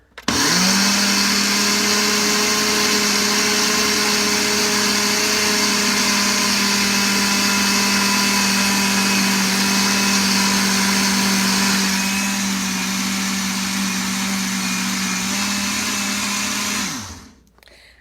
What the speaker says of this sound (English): I put it in my little bullet blender. And this is gonna become a little flour